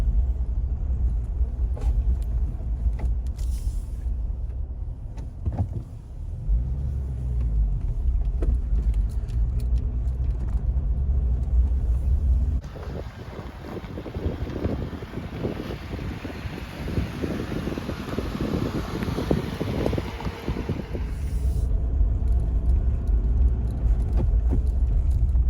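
A Jeep towing a squaredrop camper trailer on a test drive, with a steady low engine and road rumble and constant wind buffeting. Midway the noise turns broader and rougher for several seconds, then settles back to the steady drone. No one talks.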